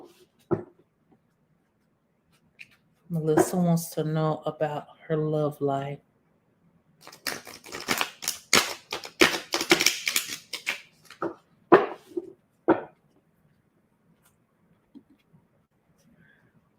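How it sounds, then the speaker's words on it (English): Tarot cards shuffled during a live tarot reading, heard as a burst of rapid papery riffling clicks between stretches of someone speaking, with quiet pauses around them. "Let me get this real good shuffle here."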